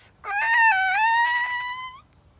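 A voice imitates a long, high squeal of tires, one sustained rising and wavering tone lasting about two seconds, loud and close.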